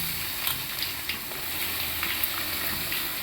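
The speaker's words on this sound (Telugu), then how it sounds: "ఇవి కాస్త ఫ్రై అవ్వనిద్దాం ఆయిల్లో." Dried red chillies fry in oil for a mango pickle, giving a steady close hiss and crackle. A few faint scrapes from stirring sound over the sizzle, and no one speaks.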